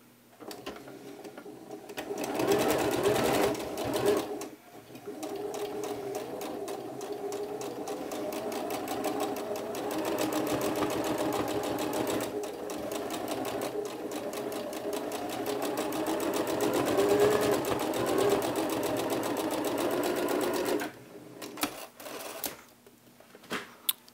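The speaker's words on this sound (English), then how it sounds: "going to do a single stitch down each feather" A sewing machine runs a single straight stitch down a line of tulle peacock feathers, a rapid close mechanical chatter that starts, pauses briefly, then stitches steadily for about sixteen seconds before stopping.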